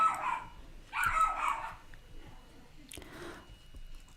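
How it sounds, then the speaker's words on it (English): A dog barks in a couple of loud, close bursts indoors, with quieter yips and whimpers between them and a voice talking nearby. "My dog going crazy."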